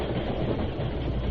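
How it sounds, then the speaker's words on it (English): Steam train thundering past on rails, a dense, constant roar of wheels and rushing noise with no break. "His shout was lost in the rumbling of the wheels and the hissing of steam."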